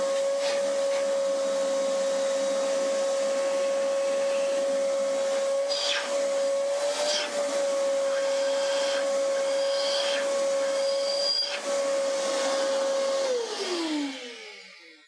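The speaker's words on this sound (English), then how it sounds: "So when the vacuum's on," A vacuum in a home garage runs loudly and steadily with a strong whining tone and airy roar, then winds down as it switches off near the end.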